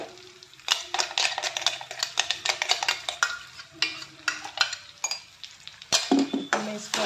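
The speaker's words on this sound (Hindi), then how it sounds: "मैं इसको अच्छे से मिक्स कर दूँगी, इसको हमें अच्छे से भून लेंगे।" Coarse ground moong dal being stirred in a pan for kachori filling, giving repeated close scraping and clinking strokes of a spoon against metal with a faint sizzle underneath.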